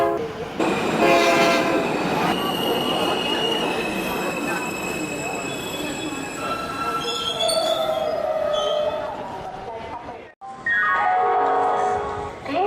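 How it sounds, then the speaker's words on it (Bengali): A train rolls in with loud, drawn-out wheel and brake squeals and tonal whines, slowing to a stop, then a brief hush before another squealing passage. "একটু পরেই দেখলাম ট্রেন এসে থামলো স্টেশনে"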